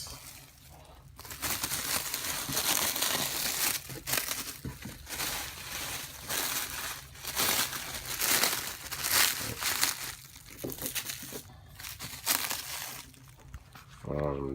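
Protective plastic wrap crinkles and crackles as it is pulled off a life-size Spider-Man Homecoming figure, a busy, continuous rustling up close that runs nearly throughout, with brief pauses between tugs.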